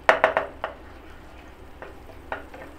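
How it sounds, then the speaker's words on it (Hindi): Butter melts in a hot pan with a soft, steady sizzle, opened by a quick run of sharp utensil clicks against the metal, then a few scattered taps over the quiet frying. "फिर से हम पैन में बटर डालेंगे,"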